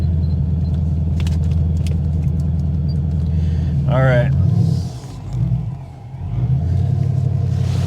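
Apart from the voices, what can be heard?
car engine started and driven to driveway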